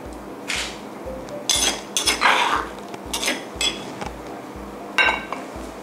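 A spoon scrapes and clinks against a cookware pot and serving bowl while mushroom chili dip, nam prik het, is dished out, giving several sharp metallic knocks and scrapes at uneven intervals over a low steady hum.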